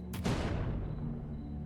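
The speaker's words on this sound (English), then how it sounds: "can I burn off plague stuff with an explosion?" An explosion in the video game Pandemic Train: a sudden sharp burst followed by a long, heavy rumble that slowly fades, with nothing else heard.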